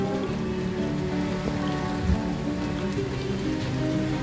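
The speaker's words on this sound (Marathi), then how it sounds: "आज तुम्हाला पाऊस दाखवायचा होता, ते कंटिन्यू पडतोय." Steady rain falls continuously on a terrace garden during the monsoon, a dense even patter with no pauses, fairly close and alone.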